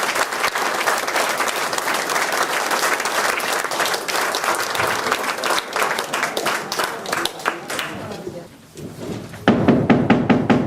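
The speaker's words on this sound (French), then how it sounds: "je vous demande de les encourager et de les applaudir avec un tonnerre d'applaudissements" Enthusiastic audience applause at a French amateur theatre festival, dense sustained clapping from a large crowd that thins toward the end, followed by louder sharper claps close by.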